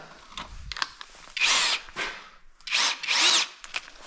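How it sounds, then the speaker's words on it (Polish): A power drill whirs in several short, high-pitched bursts of varying length, drilling a hole in the side of a Vladimirets T-25 tractor dashboard, close up, with pauses and faint clicks between them. "I będziemy wiercić to wiertłem. Wywiercimy sobie teraz ten otwór na boku."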